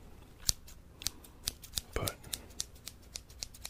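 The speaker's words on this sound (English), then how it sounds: "I will demonstrate how effective these absolutely unassuming scissors can be." Scissors snip again and again close up, with sharp clicks at an irregular rhythm and one longer slicing cut, against a quiet background.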